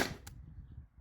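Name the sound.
T4E TR68 firing a PVC-coated steel ball over a chronograph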